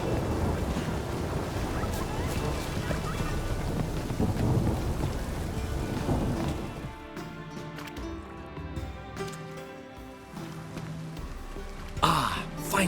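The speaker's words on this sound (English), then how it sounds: "A storm, damn it." A thunderstorm in the video game The Witcher 3 gives dense, steady rain with rumbling thunder, then eases to quieter patter with a sharp crack near the end.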